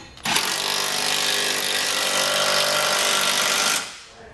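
A power tool with a 19mm socket drives hitch bolts during installation of a Curt trailer hitch receiver on a 2011 Nissan Juke, giving one loud, steady buzzing burst of about three and a half seconds close by.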